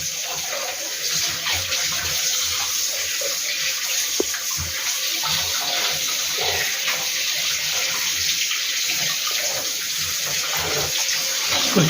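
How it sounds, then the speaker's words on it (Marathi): Running tap water pours steadily over fish being washed clean for a Malvani recipe, a continuous splashing gush close by with small handling knocks and no talking. "अशी स्वच्छ पाण्याने धुवून घ्यायची मच्छी"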